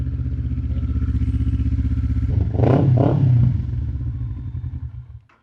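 A Kawasaki Ninja 400R sports motorcycle engine idles with a steady low throb, then revs sharply twice, the engine roar swelling close by before settling back to idle and cutting off.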